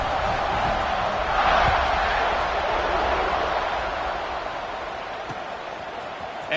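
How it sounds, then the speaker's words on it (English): A football stadium crowd buzzes as a dense, continuous roar after a score, loud and sustained before easing slightly toward the end, with no clear voices standing out. "this crowd is buzzing after that last score."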